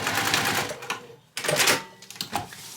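A domestic sewing machine runs in quick rattling bursts while back stitching a seam, stopping briefly and then starting again with a steady mechanical whir, loud and close.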